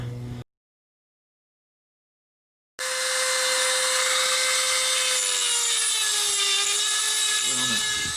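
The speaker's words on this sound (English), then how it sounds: "Dremel tool to the rescue." A Dremel rotary tool cuts around a bolt while a damper pulley is being changed, giving a loud, steady high-pitched whine for about five seconds after a short burst and a pause, with the tone dipping slightly near the end.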